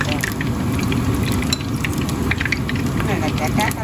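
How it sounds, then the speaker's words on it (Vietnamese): Vietnamese fish cakes pressed flat and frying in hot oil, a dense steady sizzle with crackling pops running continuously and close, with a voice talking over it. "bạn ấn nó xuống đó, ấn nó xuống, chiên nó như vậy"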